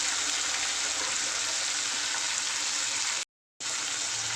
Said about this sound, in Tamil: எண்ணெயிலே நல்லா வதங்கட்டுங்க